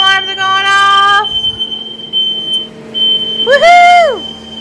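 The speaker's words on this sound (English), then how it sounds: "the freaking smoke alarms are going off." Smoke alarms inside a house during the 2021 Texas winter storm blare loud, shrill electronic tones in long bursts with brief gaps, rising and falling near the listener.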